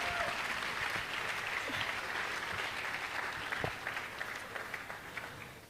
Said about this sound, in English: please, a round of applause for Mommy